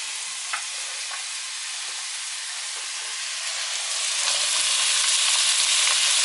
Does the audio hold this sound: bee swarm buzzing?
no